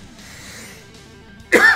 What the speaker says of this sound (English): as my excitement goes and a cough comes through